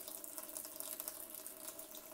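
Tap water runs steadily from a Brita faucet-mounted filter into a sink, a continuous faint hiss and splash with no talk.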